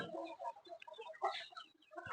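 A chicken, one of a flock where a bird sits huddled from the cold, clucks softly in a run of short, close, quiet calls.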